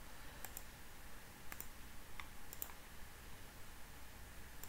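Computer mouse clicks, about five sharp, quiet single and double clicks spaced irregularly over a low steady background hiss.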